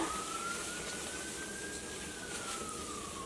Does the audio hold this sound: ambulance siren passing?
yes